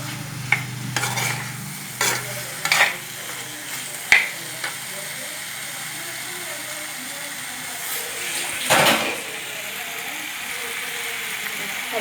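Curry ingredients with two green chilies sauté in a pan for a meatless fish-style curry. A low sizzle runs under intermittent scraping stirs and clatters, with a louder scrape near the end, and there is no talk.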